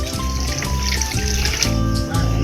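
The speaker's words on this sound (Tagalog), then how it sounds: "Tapos yung tubig natin guys, 600 grams" Water, 600 grams or about three cups, pouring into a binangkal dough mixture in a home kitchen, a steady continuous splashing stream that sounds close, loud and unbroken throughout.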